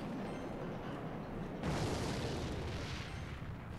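A rocket spell explosion in the mobile game Clash Royale: a muffled, noisy boom swells partway through over a steady dense wash of game sound and continues to the end.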